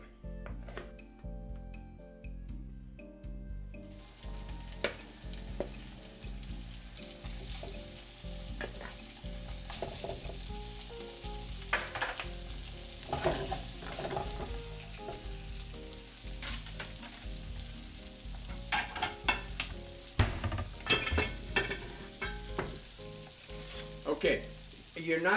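Leftover meatloaf warming in a pan with olive oil and butter, a continuous close sizzle and fry with occasional clicks and scrapes of a utensil against the pan throughout.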